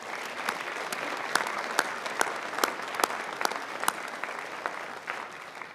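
A large graduation commencement audience applauds steadily in a big hall, dense sustained clapping with sharper individual claps popping through, moderately loud and fairly even throughout before easing slightly at the end.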